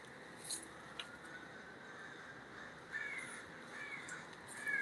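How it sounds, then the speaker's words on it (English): Several crows caw in short harsh calls outside a small concrete sculpture studio, spaced irregularly over a quiet outdoor background, moderately distant and clear with no talking. "And there's those crows that have been attacking."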